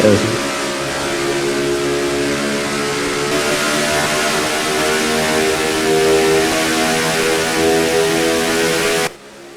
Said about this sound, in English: As you hear these engines screaming here at Vegas